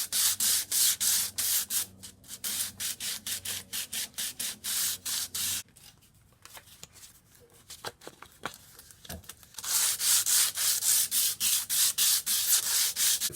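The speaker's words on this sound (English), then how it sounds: "There's nothing wrong with sanding down those rough edges while you've got it still mounted to the shovel." Rhythmic back-and-forth strokes of 100-grit sandpaper on a wooden shovel handle, loud and close, with a quieter, slower stretch of rubbing in the middle before the brisk, even sanding resumes.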